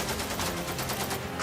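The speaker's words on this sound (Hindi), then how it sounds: "बमबारी, फायरिंग और धमाकों की आवाज से एक बार फिर बलूचिस्तान दहल उठा।" Rapid bursts of gunfire and blasts during a militant attack on the Pakistani army in Balochistan, a dense, continuous barrage of repeated loud cracks filling the whole stretch with no voices.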